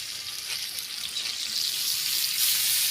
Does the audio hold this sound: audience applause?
no